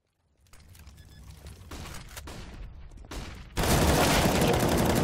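Rapid automatic gunfire sprays in a tactical shooter match, a steady crackling stream that swells into a loud, dense burst near the end.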